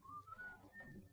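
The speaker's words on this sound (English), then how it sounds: "That whistling. The tune he's a-whistling." A man whistles a tune outdoors, a thin wavering melody heard faintly at a distance over a low background hum.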